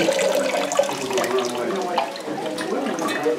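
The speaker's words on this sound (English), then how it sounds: "this is the water that comes out of here. It did not come from the well out there." Water gushes from an old hand pump on a house cistern at a pioneer farm museum, a steady splashing flow with people talking over it.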